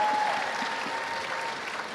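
Audience applause fills the hall at a gala flag ceremony: a dense, steady wash of clapping from a large crowd that holds at an even level for the whole two seconds.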